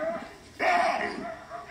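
A single harsh, grating roar-like cry from an olive baboon bursts out, loud and rough, lasting about half a second against a quiet background.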